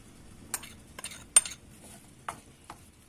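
Sushi rice is stirred together with apple vinegar, salt and sugar, giving a few sparse, soft scrapes and light clinks spaced apart in an otherwise quiet room.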